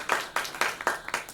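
A literary-session audience claps for a poet at a Patna museum festival, a scattered handful of sharp claps landing in an uneven rhythm, fairly close and moderately loud, with no one speaking.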